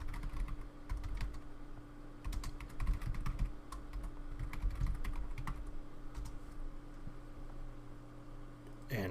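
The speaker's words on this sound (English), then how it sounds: "we're going to type this into the CLI" Rapid, irregular clicking of keys on a computer keyboard being typed at steadily over a low electrical hum, close and fairly quiet, with no talk.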